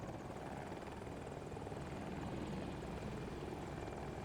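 A helicopter in a first-person shooter game drones steadily with a dense, continuous rotor and engine roar, unbroken and fairly close for the whole stretch, with no talk over it.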